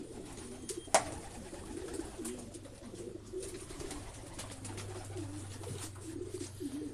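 A pet pigeon coos on arrival, a soft repeated rolling coo in a steady rhythm, close but quiet, over a low background hum with one sharp flap or knock early on.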